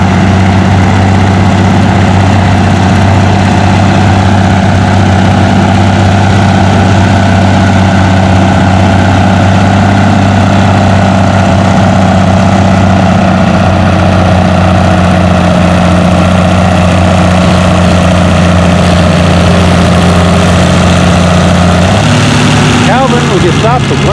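An Allis-Chalmers WD-45 diesel tractor at a tractor pull idles and rumbles loudly and close by with a heavy, steady low drone, then shifts pitch near the end as the engine changes speed, with voices faintly underneath.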